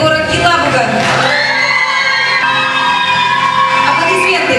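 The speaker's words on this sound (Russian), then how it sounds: "Аплодисменты." A crowd at a dance festival award ceremony claps and cheers loudly, with whoops and shouts rising over continuous applause close by, voices mixed into the din.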